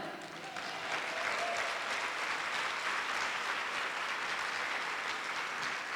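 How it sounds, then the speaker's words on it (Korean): Congregation at a pastors' seminar in Guadalupe, Mexico, bursting into sustained, dense applause that swells quickly and holds steady at full strength throughout, with scattered voices mixed into the crowd. "Un aplauso fuerte para el Señor."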